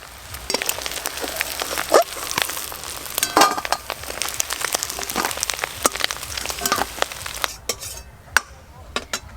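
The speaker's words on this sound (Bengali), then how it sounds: "আর কাঁকড়ার ঘিলুগুলো গরম তেলে পড়েছে, সেই জন্য তেলগুলো ফুলে ফুলে যাচ্ছে।" Crabs caught from field burrows frying in hot oil, a close, busy crackle of spattering pops with scattered metallic stirring clinks throughout.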